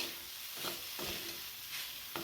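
Spiced Indian flat beans (val shenga) stirred in a pan, with a soft, constant sizzle and several spoon scrapes at intervals, quiet and close, with no talk.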